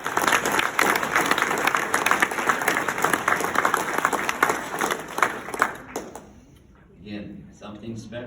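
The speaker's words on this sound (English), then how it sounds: "let's give a round of applause" A high school class reunion audience claps in a dense burst of applause that fades out after about six seconds, followed by quieter room sounds and a voice.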